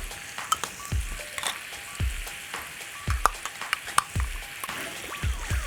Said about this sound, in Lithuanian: Į keptuvę dedame pomidorų pastą, 1 šaukštą.